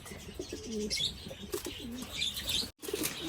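Racing pigeons in a loft, just fitted with leg bands, give soft cooing calls mixed with quick bursts of wing flapping and light rustling, close by, with a brief dropout near the end.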